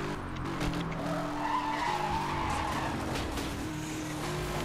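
A Bugatti in the racing game Need for Speed skids with a sustained tire squeal over a steady, loud engine drone, with no talk.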